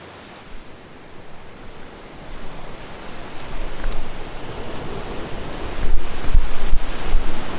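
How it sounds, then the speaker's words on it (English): Ocean surf crashes along a North Atlantic island shore, a steady broadband roar of breaking waves mixed with wind buffeting the microphone, swelling louder toward the end. "There's such a power here with the ocean crashing."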